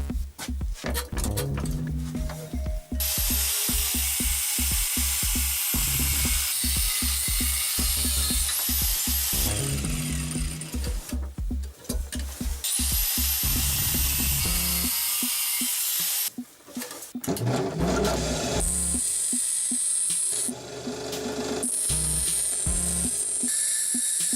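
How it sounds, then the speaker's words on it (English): Loud power tool whine from a grinder cutting excess metal off a bolt, running in long bursts with brief pauses and rattling, close to the microphone. "use the grinder to cut off all the excess"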